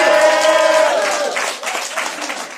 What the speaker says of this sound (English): Please clap hard for Elijah the Barber.